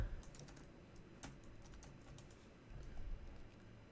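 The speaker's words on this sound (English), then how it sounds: "Typing." Computer keyboard typing in a fast, irregular patter of light clicks, close and fairly quiet, with a few louder keystrokes and no talking.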